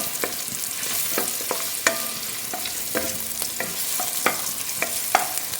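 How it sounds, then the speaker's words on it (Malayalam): Pulao ingredients lightly frying in a pan, with a steady sizzle under repeated sharp scrapes and clinks of a spoon stirring at an irregular pace, close and clear, no voices. "ചെറുതായിട്ടൊന്ന് അതൊന്ന് വറവാകുന്നത് വരെ ഒന്ന് ഇളക്കി കൊടുക്കാം ഒരുപാട് ഫ്രൈ ചെയ്യേണ്ട"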